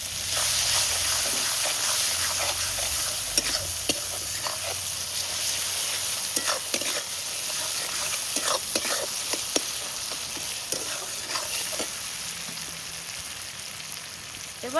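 Chopped tomato with turmeric and salt fries in a pan for a Bengali village fish dish, giving a steady loud sizzle broken by frequent scraping stirs of a spatula, with no voices.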